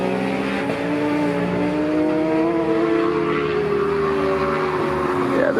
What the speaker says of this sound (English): Yeah, I have no idea why there's a 4-cylinder bike.